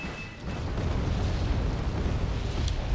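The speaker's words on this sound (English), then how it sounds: "Artillery there and there." Artillery explosions in the video game Wargame Red Dragon merge into a dense, continuous roaring rumble of blasts, loud and sustained throughout with no talk.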